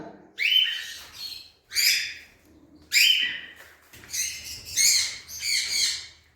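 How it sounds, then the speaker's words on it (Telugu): Pet cockatiels call out in a series of sharp, bright chirps and whistles, about six distinct bursts spaced a second or so apart, close and fairly loud in a quiet room. "నా కాక్టైల్ బర్డ్స్ నా కాక్టైల్ కలెక్షన్ ఇది"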